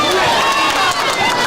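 Loud, steady crowd noise at a bowling alley during a unified bowling event, with many voices chattering and calling out at once in a continuous close wash.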